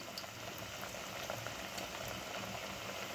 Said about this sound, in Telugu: నేను వేయించి మీకు చూపిస్తాను